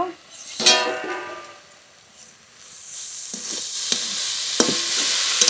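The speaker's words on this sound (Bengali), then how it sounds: "ঢাকনা তুলে শাক নেড়ে নেব" Leafy greens are stirred in a cooking pot once the lid is lifted, giving a soft sizzle with scraping stir strokes and a few light clinks of utensil against the pot.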